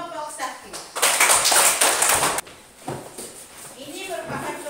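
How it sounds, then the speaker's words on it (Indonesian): A classroom audience claps briefly for a student group that has just presented, a short burst of many hands in the middle with voices talking before and after. "Kita tepuk tangan untuk kelompok 1"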